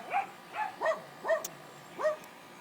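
Dogs bark outdoors at a home, five separate yelping barks spaced across the moment at moderate distance, with no talking over them.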